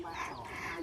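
A chicken gives a short, nearby cluck lasting under a second, heard alone.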